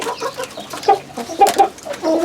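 A pet hen waiting for her scratch feed gives a run of close, repeated clucks in an uneven rhythm, loud and clear with no voices over it.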